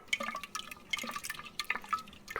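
Fermenting makgeolli rice mash being stirred, giving wet, liquid slurps and drips in short irregular bursts, close and fairly quiet, with no voices.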